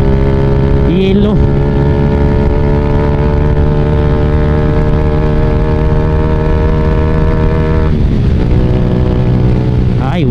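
A Honda Wave 100 motorcycle engine and exhaust on the road, a loud, close, steady droning buzz whose pitch shifts briefly as the throttle changes, running continuously throughout.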